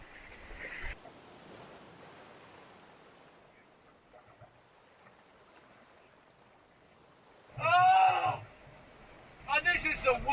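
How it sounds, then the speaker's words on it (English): Waves slam into a small sailboat on a rough solo ocean crossing: a continuous wash of water and wind, with a heavy surge near the start and two loud, close crashing impacts toward the end. "I got hit again. Enormous wave."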